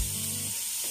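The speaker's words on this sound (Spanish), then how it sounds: "vas a agregar inmediatamente lo que es la cebolla" Onion going into a hot pan with seared chicken for a chicken and potato stew, giving a steady broadband sizzle and frying hiss with a low burst at the start, continuous and fairly loud, no talking.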